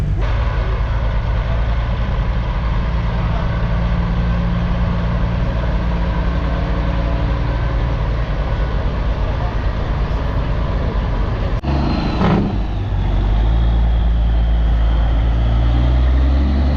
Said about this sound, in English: More trucks have rolled in since we were last here.